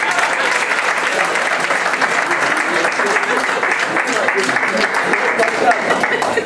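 Audience at a diaspora gathering with an ambassador breaks into sustained applause, loud and even clapping from a sizable crowd with faint voices mixed underneath.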